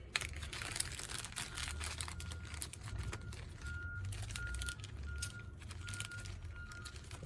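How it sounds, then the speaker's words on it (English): Garbage truck working outside in a residential neighborhood on collection day, heard faintly from indoors as a low rumble with repeated reversing beeps in the background, mixed with small nearby handling and crinkling sounds. "Yes, you can hear the garbage truck."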